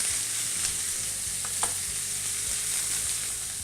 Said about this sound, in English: Now that we've seared the steak on the second side for about 2 minutes